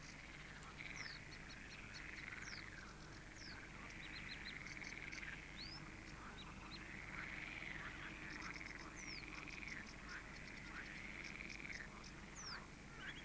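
Frogs croaking at a pond in summer, a steady chorus of rhythmic croaks layered with occasional bird chirps over constant background noise, fairly faint and distant with no voices.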